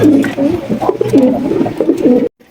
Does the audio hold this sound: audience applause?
no